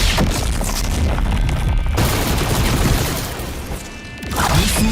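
In a video game, an electrified dragon lightning ability slams into the ground as heavy booming crashes. Dense, loud impacts fill the stretch, dip briefly near the end and then surge again, with no talking.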